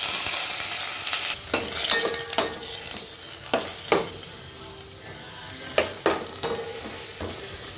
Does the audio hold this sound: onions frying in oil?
yes